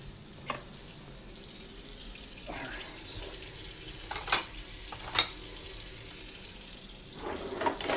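Dishes being washed at a home kitchen sink: soft running tap water and wet swishing under quiet background, broken by a few sharp clinks of crockery and a brief clatter near the end, close and fairly faint.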